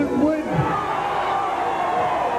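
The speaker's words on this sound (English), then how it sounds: "with the cheers of the crowd behind him" A wrestling event crowd cheering in an arena: a loud, steady roar of many voices with a ringing announcer-style voice carried over it, the whole crowd noise sustained without a break.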